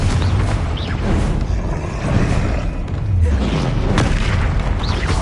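A Confringo fire spell explodes during combat in the Hogwarts Legacy video game, a dense, rumbling blast that fills the clip with continuous booming and crackling debris.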